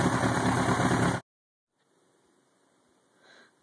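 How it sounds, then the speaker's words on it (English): A warm 2000 Yamaha YZF-R1 motorcycle engine idles before a rebuild, with oil smoke venting from the crankcase breather. The steady, loud, close idle runs for about a second, then cuts to near silence with only faint room noise. "This is the bike before the rebuild. At idle, bike is warm."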